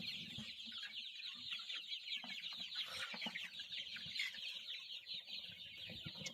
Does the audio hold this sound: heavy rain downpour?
no